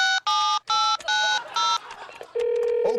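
A quick series of touch-tone beeps as a phone number is dialed, each tone short and distinct, followed by a steady electronic tone.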